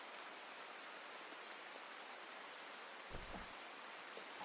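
Steady rain hiss in RimWorld, a constant broadband patter with a brief low rumble near the end, fairly faint and without voices.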